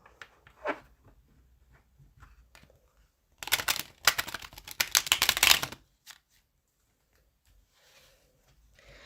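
Tarot cards are shuffled in one riffle of about two seconds, a dense flurry of crisp slaps after a few faint handling taps, then near silence.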